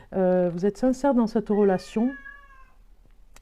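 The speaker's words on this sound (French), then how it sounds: "Vous allez entendre mon chat miauler." A domestic cat meows loudly and close by in a run of several drawn-out, wavering cries, mixed with a woman's French speech, then one long fading meow trails off alone.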